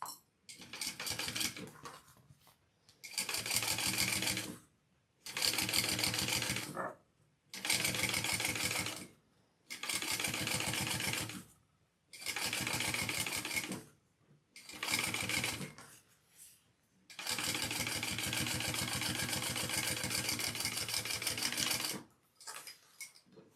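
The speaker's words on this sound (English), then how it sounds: "flip it down and top stitch along the base piece again" A sewing machine runs in repeated bursts of steady rapid stitching while top stitching along the base piece of a handmade bag, with short quiet pauses between runs and one longer final run.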